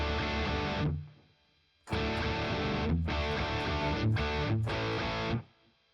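An electric guitar played through distortion boost pedals for a vintage crunch rings out in loud chords. Each strum sustains, then is cut off by a short silence before the next, with no talk.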